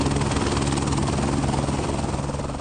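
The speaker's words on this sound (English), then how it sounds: "about to get on a helicopter with a biologist hired by the mining company" A helicopter carries a biologist hired by a mining company on an aerial beaver survey. Its rotor thumps in a loud, steady, close drone that runs without a break.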